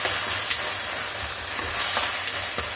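Sizzling pan of cabbage manchurian being stir-fried in sauce with tomato ketchup and soy sauce, a steady loud hiss with light scraping stirs throughout and no voices.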